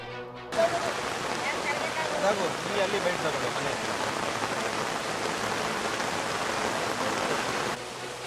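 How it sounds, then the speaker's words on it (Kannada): Swollen stream roaring through heavy rain in Karnataka after a footbridge washed away, a dense, steady broadband rush of water and rainfall filling the whole scene at close range, constant from start to near the end. "ಹಳ್ಳದ ನೀರು ಭೋರ್ಕರಿತಾ ಇದೆ"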